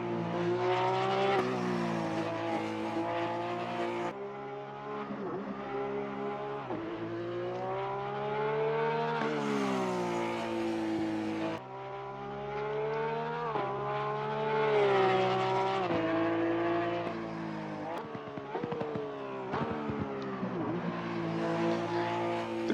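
Porsche 991 GT3 lapping a track in the racing game Assetto Corsa Competizione, its engine revving high and steady with rising and falling gear changes, loud and continuous.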